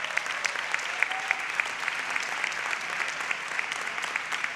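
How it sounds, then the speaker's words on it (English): A ceremony audience at a dual enrollment recognition event in Montgomery County applauds steadily, a dense wash of clapping that holds at an even level from start to finish with no voices on top. "that deserves a round of applause"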